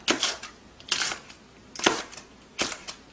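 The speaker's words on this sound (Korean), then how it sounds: "야채를 썰어주겠습니다. 고추를 청양고추 한 3개 정도요." A knife chops Cheongyang chili peppers on a cutting board in four sharp, crisp strikes spaced roughly a second apart, each with a quick double tap, close and clear with no talk.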